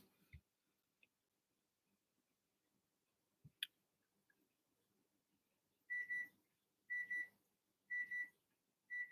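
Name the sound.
kitchen timer going off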